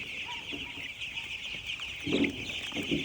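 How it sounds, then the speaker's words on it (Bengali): Ten-day-old broiler chicks on a poultry farm, peeping and clucking softly in short bursts over a constant high-pitched background hum. "ব্রয়লার মুরগি"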